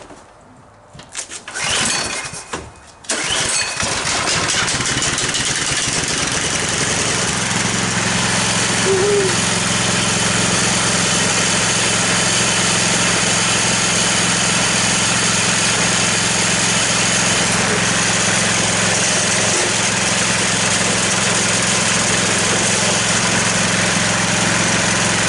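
A small engine in a new garage sputters and coughs a few times, catches after about three seconds, then idles loudly and steadily close by for the rest of the clip.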